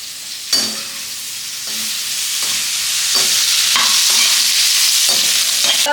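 Curry leaves drop into a hot pan of radish and curd sambar, setting off a sudden crackle that settles into a steady, loud sizzle with a few clicks from stirring.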